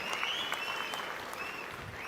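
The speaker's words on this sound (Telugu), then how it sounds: "గట్టిగా చప్పట్లు కొట్టి అభినందించండి" Audience applause at a public meeting with the chief minister in Chirala, a dense steady wash of claps at moderate distance, with a faint whistling tone riding over it.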